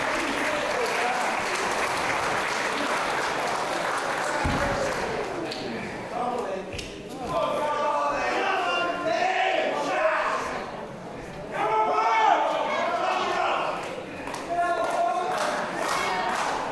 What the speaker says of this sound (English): This crowd in Canterbury trying to get some energy back into Rob Lynch, get some blood pumping through the veins